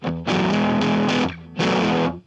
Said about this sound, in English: I find myself using fuzz a lot of the time because it has this unique character.